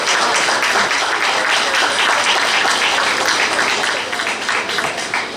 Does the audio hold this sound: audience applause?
yes